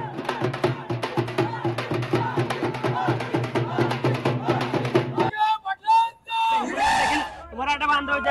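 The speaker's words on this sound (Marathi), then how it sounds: "मराठा बांधव जे आहेत ते मोठ्या साजरा करतात की मोठ्या प्रमाणात जल्लोष साजरा करतात" A Maratha crowd celebrating in Hingoli, with dense, loud rhythmic chanting and shouting for about five seconds, followed by scattered louder yells and voices.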